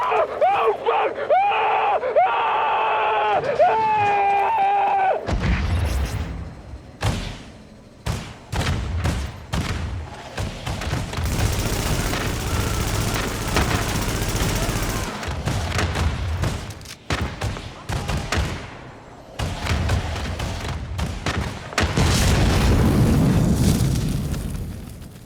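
A hostile armored personnel carrier is destroyed under heavy gunfire and explosions in The Division, with loud bursts of automatic fire, booming blasts and rumbling debris over about twenty seconds, following a brief tonal radio-like voice at the start.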